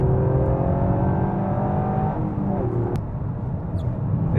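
A car accelerating hard around a race track during a track day, its engine roaring loud and close and steady throughout, easing slightly past the midpoint.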